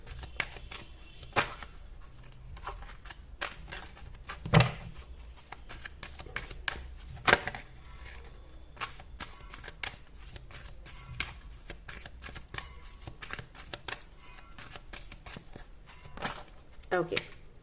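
Angel oracle cards shuffled by hand close up, a steady run of quick papery flicks and riffles with a few sharper slaps, continuing throughout with no voice over it.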